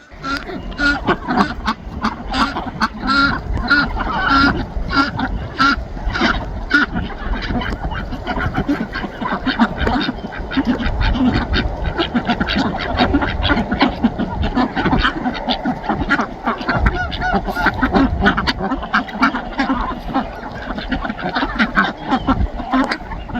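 A flock of ducks quacks continuously and loudly up close, overlapping calls forming a busy, chattering din with a person talking faintly underneath.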